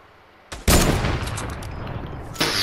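A sharp rifle shot cracks out in a Battlefield match, followed by a loud burst and sustained rumbling gunfire, with a second blast near the end, close and loud.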